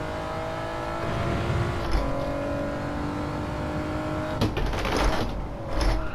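Car in Gran Turismo 7 sliding through a four-wheel drift, its engine note steady and loud throughout with shifting pitch, tyre scrub and brief bursts of revving near the end, no talk.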